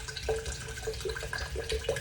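Water runs from a tap into a jar of four-cheese pasta sauce, a steady faint trickle with small splashy bursts as it fills, close by with no talk.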